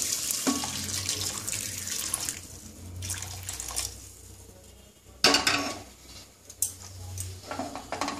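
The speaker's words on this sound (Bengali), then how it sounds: "আমি গরম জল করে রেখেছি সেই গরম জল এর মধ্যে দিয়ে দেবো" Hot water pours into a cooking pot holding potatoes and vegetables for a Bengali mixed vegetable dish, heard as close splashing and gushing in a few separate bursts with light clinks of the pot.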